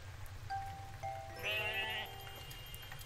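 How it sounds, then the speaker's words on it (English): Sheep bleating in the farming video game Harvest Island, one short wavering bleat in the middle over a quiet looping background, no voices. "Oh, right, the sheep. Those are sheep."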